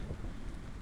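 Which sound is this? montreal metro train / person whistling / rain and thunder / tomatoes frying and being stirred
rain and thunder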